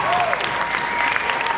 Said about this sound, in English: Let's give Mark and his beautiful wife a round of applause.